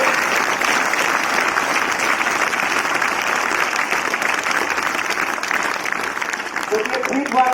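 Loud, sustained applause from the full house honoring the army's valor, a dense roar of clapping that holds steady throughout with a slight dip near the end, no clear voices over it.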